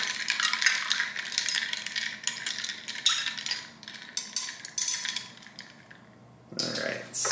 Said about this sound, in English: Let's give it a good mix